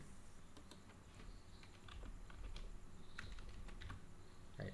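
Faint, quick keystrokes on a computer keyboard as text is entered into Sage 50 accounting software: light irregular clicks in short bursts against a quiet background hiss.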